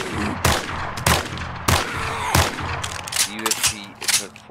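Gunfire from a weapon in the survival game 7 Days to Die rings out in sharp, loud single shots at irregular intervals, with a voice talking between them.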